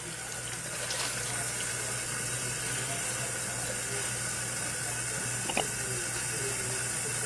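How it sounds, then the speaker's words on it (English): Bath water drains from a guinea pig's tub, a steady, close, hissing rush of running water with faint gurgles that continues unbroken for several seconds. "I'm going to drain all the water in the first one."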